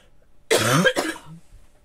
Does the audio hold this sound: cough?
yes